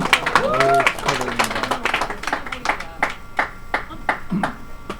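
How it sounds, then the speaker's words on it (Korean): Audience applause at a lecture. A voice is heard at the start, then a small crowd claps in separate, distinct bursts that thin out over a few seconds. "박수 한번 보내주세요."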